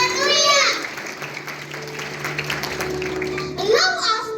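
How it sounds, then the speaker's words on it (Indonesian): A church congregation claps during a thanksgiving worship service, giving sustained broadband applause that fills the room for several seconds. Voices rise over the clapping at the start and again near the end, with children's voices audible among the crowd. "Kita berikan tepuk tangan bagi Allah kita."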